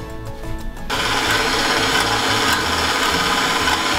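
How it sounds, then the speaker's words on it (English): An electric hand mixer whirs steadily at medium speed, beating egg whites for lemon macarons, starting abruptly after a quiet moment and holding a loud, continuous buzzing drone to the end. "we're gonna mix that on about medium speed for a few minutes until it starts to get foamy"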